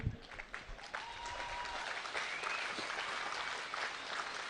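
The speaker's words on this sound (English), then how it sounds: "You like that? Good, you can clap." Audience applause at a talk, a steady broadband patter of many hands clapping that holds evenly for several seconds with a little crowd murmur underneath.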